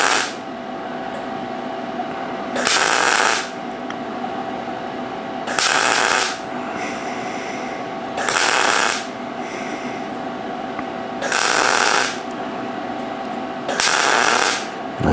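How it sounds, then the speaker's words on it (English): A welder burns a new pass in on top of an earlier weld, sending out five loud bursts of crackling, hissing arc, each lasting about a second, separated by quieter stretches of steady humming background. "I'm just going right on top of the weld before, and I'm burning it in."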